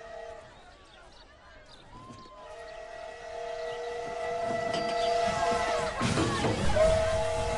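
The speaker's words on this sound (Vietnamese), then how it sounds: "Thành phố Brest, ga xe lửa." Train at Brest city railway station in a war film scene, a sustained whistle-like tone rising in loudness amid station rumble and crowd noise, growing louder toward the end.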